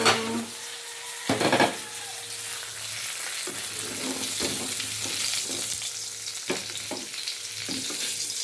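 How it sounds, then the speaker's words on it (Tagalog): Tilapia fries in a pan with a bright, steady sizzle, broken by several sharp clinks and scrapes of a utensil against the pan, close up and without talk. "luto na ang isdang prito na tilapia"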